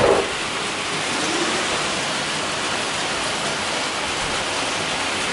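Heavy rain pours down steadily in a dense, loud hiss that stays constant throughout, with no voices.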